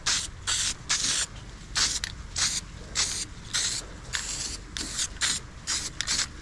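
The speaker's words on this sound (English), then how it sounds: "Just hit it with some of this primer." Primer paint hisses from a spray can onto a farm sprayer part in short repeated bursts, each a few tenths of a second long, close and fairly quiet, with brief gaps between.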